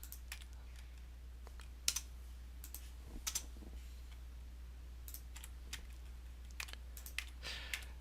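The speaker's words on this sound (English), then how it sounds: "I'm typing in the keyboard and every keystroke is going" Computer keyboard being typed on, sparse quiet keystrokes and clicks in irregular bursts over a low steady hum, close and faint, with no talking.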